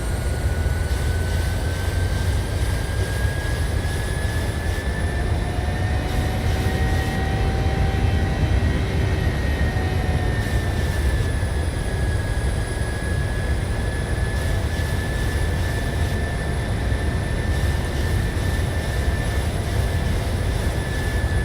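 Airliner jet engines in a flight simulator drone steadily throughout, a loud, continuous roar topped by a thin, sustained whine, with no talking.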